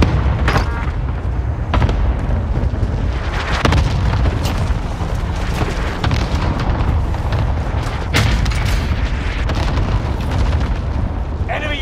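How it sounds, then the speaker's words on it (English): Cluster airstrike explosions in the video game Call of Duty: Modern Warfare form a loud, unbroken barrage of deep booms and cracking blasts, with game radio voices calling out under the din. "Cluster strike is active."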